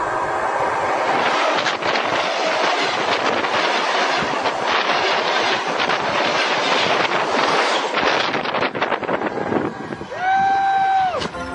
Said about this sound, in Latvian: Puisim pārbrauc pasažieru vilciens